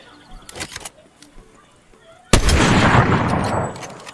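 A single sharp, loud gunshot in Fortnite rings out and trails off, after a quieter stretch of brief honk-like calls and small noises.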